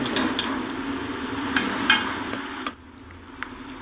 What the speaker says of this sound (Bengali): এবার ঢাকা দিয়ে আমি ভেজে নেব